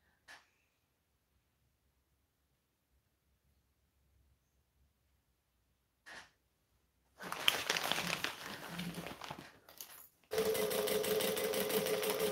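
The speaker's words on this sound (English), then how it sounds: "For standard sewing, I always use my Teflon foot." Sewing machine fitted with a Teflon foot stitching a custom order, heard as a steady close mechanical whirr in two runs after a long near-silent stretch with a couple of faint clicks.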